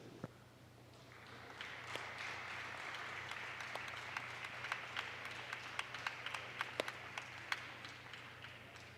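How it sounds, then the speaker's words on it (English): Audience at a Ridge vs Montgomery varsity basketball game applauds the graduating seniors, a faint, steady wash of many hands clapping from a distance, with a few sharper claps standing out near the end. "Let's hear one more round of applause for our graduating seniors"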